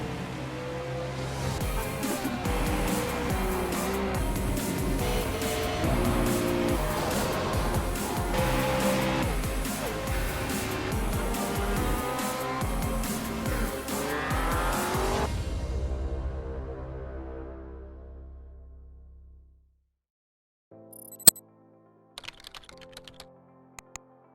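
Touring cars race around Silverstone in the iRacing sim racing game, engines droning and shifting steadily for about fifteen seconds before fading out, followed by a few faint clicks.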